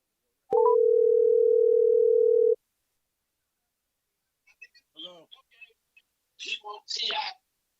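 A telephone dial tone sounds as a call is placed: one steady, clear tone lasting about two seconds, followed by silence and then a voice speaking.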